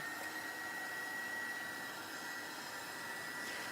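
A dryer blowing steadily on a lace craft piece, a continuous close whirring hum with a thin high whine, alone and unchanging throughout.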